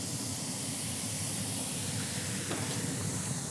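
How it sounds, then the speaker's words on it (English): Steady, loud hiss of water steaming and sizzling on a hot griddle under cheese, continuous throughout with no voices. "let's hit that with just a little bit more water so we can steam that cheese"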